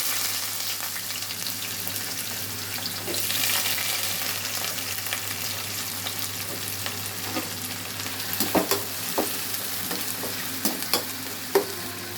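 Onions fry in a pan for an eggplant and green pea curry, a steady close sizzle with a low hum underneath and a few sharp clicks and spatters near the end.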